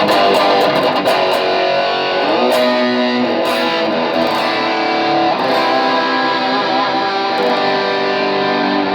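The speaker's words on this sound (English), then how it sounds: "let's put on some distortion so we get an idea of what it sounds like with the distortion" A heavily distorted PRS electric guitar plays sustained, buzzing chords and notes, loud and alone with a thick, saturated tone.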